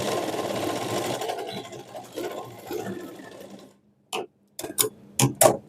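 A sewing machine runs continuously through lehenga fabric for nearly four seconds, then stops, followed by a few sharp clicks and knocks from handling the machine, all close by.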